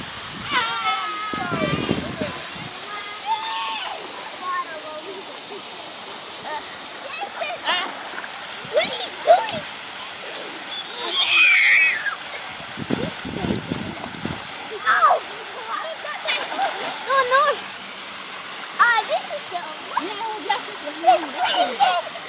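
An outdoor pool shower at Nelligen runs cold, with water splashing and streaming as children step under it. The rushing and splattering rises and falls, loud and close, while children and an adult talk and call out over it.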